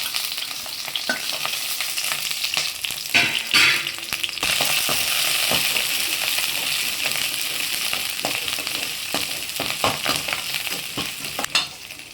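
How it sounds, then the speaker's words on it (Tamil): Small shallots, curry leaves and garlic sautéing in hot oil after mustard seeds and asafoetida have spluttered, for a dry ginger and pepper curry: a continuous bright sizzle with a burst of spattering and crackle partway through and occasional scraping spoon strokes, close up. "இந்த வெங்காயம் வந்து நல்லா வதங்கணும்"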